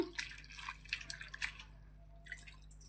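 Cut onions for onion pakoda being washed by hand in a bowl of water, giving light close splashes and dripping sounds in irregular bursts.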